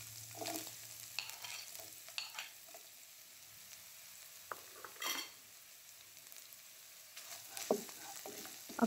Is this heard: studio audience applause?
no